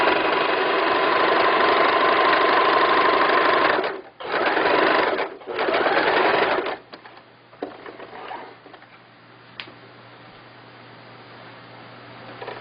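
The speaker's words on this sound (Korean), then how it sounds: "옆선 박음질을 하겠습니다." A sewing machine stitches the side seam of a floral-print skirt with a steady, loud mechanical whir. It pauses briefly twice, then stops, leaving quiet handling noises and faint room hum.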